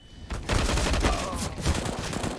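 Counter-Strike round on the Mirage map with upgraded pistols: a dense, continuous spray of rapid gunshots fills the whole stretch, loud and close, with a commentator's voice faint underneath.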